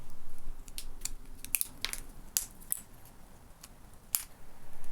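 Pliers snap off small pieces of cut 2 mm styrene model parts, giving a handful of sharp, isolated clicks and cracks spread irregularly over a quiet background.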